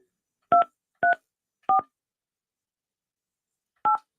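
Four separate touch-tone keypad beeps as a phone number is entered, three in quick succession and one after a pause, clean and isolated against silence.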